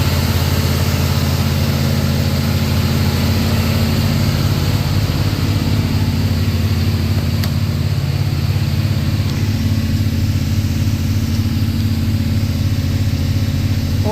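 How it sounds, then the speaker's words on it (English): A Holden VK 308 V8 running steadily during cam break-in, a loud continuous mid-to-low engine drone with a regular pulsing beat, close and unbroken for the whole stretch with no talk. "Breaking the cam in on my VK308."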